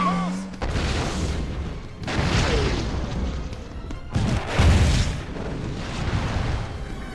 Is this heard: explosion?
yes